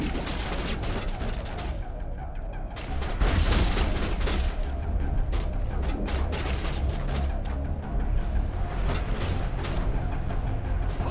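Enemies firing on the player in Mass Effect Legendary Edition, with continuous loud overlapping gunfire and heavier impacts building after a few seconds and staying dense throughout, and no talk.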